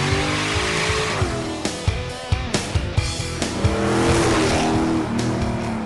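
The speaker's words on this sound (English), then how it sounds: "we then move our vehicle to the street for road testing" A tuned car drives on a public street during road testing, its engine loud and close with revving and rising and falling pitch as it accelerates, and brief sharp sounds between.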